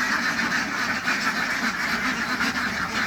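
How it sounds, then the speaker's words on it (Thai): A flock of young laying ducks at a farm in Rayong, Thailand, quacks continuously, many overlapping calls forming a steady chattering din nearby. "ตรงนี้เป็นเป็ดสาวที่เรามาลงเมื่อกี้นะครับ"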